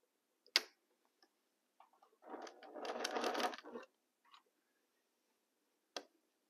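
A sewing machine stitching fabric runs in one short burst of about a second and a half, framed by sharp isolated clicks and ticks in an otherwise quiet room.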